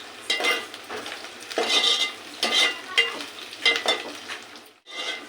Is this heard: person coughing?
no